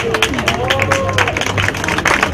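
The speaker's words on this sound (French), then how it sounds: "les applaudir, applaudir nos bénévoles." An audience at an equestrian eventing championship applauds the volunteers with lively, sustained clapping and crowd noise, loud and close, mixed with the announcer's voice.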